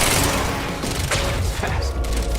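Grenade blast amid a firefight in the video game Quantum Break, a loud booming burst with rumbling thuds and scattered gunshots in a dense, noisy mix.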